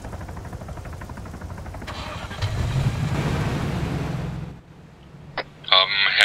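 A car engine in the Arma 3 military game revs up and runs steadily for a couple of seconds, then cuts off, followed by a few sharp clicks and brief game effects.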